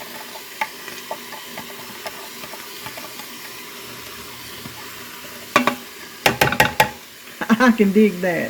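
Vegetables hit cooked meat in a hot pan with several sharp sizzling bursts near the end, after quiet stirring and faint clinks, while someone briefly speaks.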